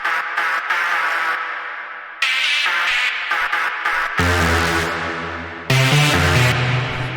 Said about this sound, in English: The next thing that we have here is this rave chord stab,